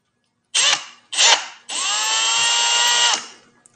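A power drill run in reverse backs out Torx head screws in two short bursts followed by a longer steady whine, loud and close with no talking.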